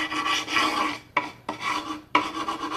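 Chipped milk paint being scraped off wooden furniture by hand without sandpaper, a close rasping scrape in three long strokes with brief pauses between them.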